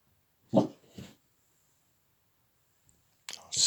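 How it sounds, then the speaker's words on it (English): Dogs outside a window near neighbours give a couple of short muffled barks and whimpers, separated by silence, with another burst of noise at the end. "Oh, the dogs will start barking in a minute."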